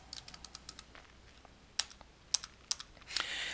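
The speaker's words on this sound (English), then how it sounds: "I'm going to type that in here." Keystrokes on a computer keyboard while a customer name is entered into business accounting software: a quiet run of light, evenly spaced clicks, then a few sharper, louder taps and a brief cluster at the end, with no talking.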